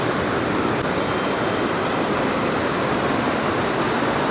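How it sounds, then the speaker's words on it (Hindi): Floodwater after a cloudburst in Kullu-Manali roars in a loud, dense, unbroken rush of turbulent water filling the whole clip, with no pauses or voices. "ये पिछली बार से ज़्यादा फ्लो है इस बार, बहुत ही भयंकर फ्लो गाइस"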